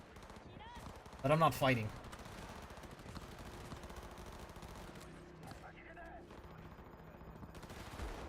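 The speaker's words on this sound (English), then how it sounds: "that gunfire just sounds pretty good" Gunfire crackles through a city firefight in the video game Cyberpunk 2077. Rapid bursts and scattered distant shots are heard under a player's commentary, with one louder, sharper cluster near the start.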